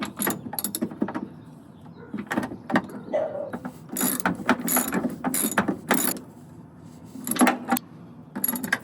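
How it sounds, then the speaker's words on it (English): Car seat bolts being screwed in while Caballo Classic seats are installed in a 1968 Ford Mustang: close, irregular bursts of ratcheting clicks and metallic mechanism noise with short gaps between turns. "the longer it takes to screw in"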